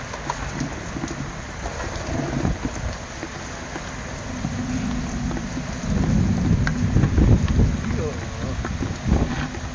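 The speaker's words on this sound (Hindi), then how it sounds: "हवा के साथ में बहुत तेज़ बारिश आ चुकी है" Heavy rain driven by strong wind pounds down through a thunderstorm, a dense, steady roar with deep low rumbling that swells louder in the second half.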